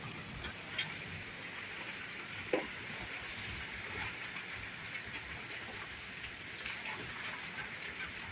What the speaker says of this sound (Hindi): बारिश आनी शुरू हो गई।